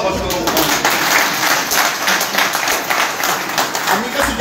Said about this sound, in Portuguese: Uma salva de palmas para o povo.